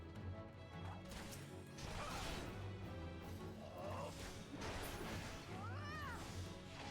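A pet cat meows several times over dense game music and effects during a Final Fantasy XIV session, the calls rising and falling near the microphone toward the end.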